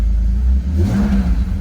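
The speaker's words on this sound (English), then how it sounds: "Give her a little rev." An E31 BMW 850i V12 engine revs briefly, its low, throaty rumble rising and then falling back, close and fairly loud.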